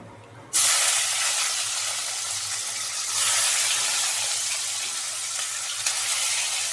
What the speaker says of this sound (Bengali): কড়াইতে যা তেল আছে সেই তেলের মধ্যে এবার মাছগুলো একটু ভালোভাবে ভেজে নেব।